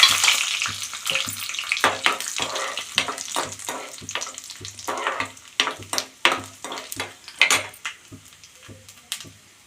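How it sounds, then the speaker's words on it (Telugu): Lentils, mustard seeds and a dried chilli fry in hot oil on low heat for a fruit chutney tempering, with a loud steady sizzle and repeated crackling pops and stirring scrapes throughout, no voices. "సిమ్లోనే పెట్టుకొని ఫ్రై చేసుకుంటాం"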